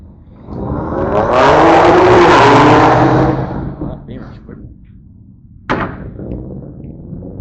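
A clean Honda at an import car show revs hard in one rising, sustained burst and then drops back. Crowd voices and talk run underneath, and a sharp thump comes near the end.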